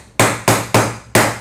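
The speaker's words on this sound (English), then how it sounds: "if the staples don't go in all the way, this has a little hammer on the back side of it" Five sharp, evenly spaced hammer strikes ring out close and loud as the small hammer on the back of a staple gun knocks staples flush while canvas is stretched.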